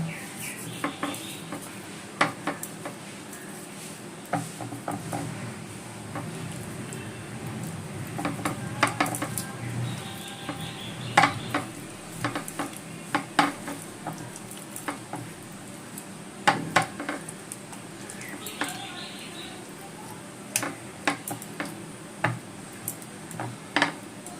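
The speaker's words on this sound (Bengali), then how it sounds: "মাছগুলো ভালো করে মেখে নিয়েছি" Katla fish pieces being rubbed by hand with salt, turmeric and mustard oil, heard as close, scattered clinks and soft wet handling noises at an irregular rhythm, with no talking.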